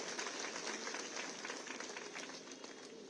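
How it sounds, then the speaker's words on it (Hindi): A crowd applauds at a BJP political rally, a public meeting held in Arang, producing a steady, dense wash of clapping that sounds faint and somewhat distant throughout. "ये जो तालियों की गड़गड़ाहट है ना"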